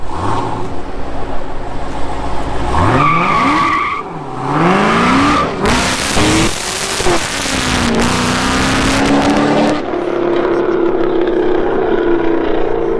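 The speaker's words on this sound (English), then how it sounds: "That's the first time I ever heard somebody driving my car" A car is driven hard nearby: the engine revs and climbs through gears with a loud whine, tires skid and squeal in a long burst, then the engine holds a high, steady roar.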